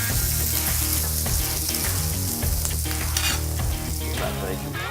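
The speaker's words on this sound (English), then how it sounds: "there's enough residual fat in this bacon to cook this nicely" Bacon frying in its own residual fat in a pan, a loud close crackling sizzle with stirring and spattering pops throughout, steady and continuous with no speech.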